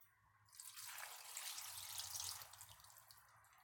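Two cups of white distilled vinegar poured into a blender jar while making hot sauce, a quiet steady splashing trickle lasting a few seconds.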